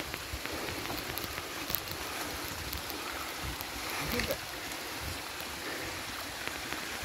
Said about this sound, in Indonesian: Inilah sungai di ketinggian 2490-an yang masih jernih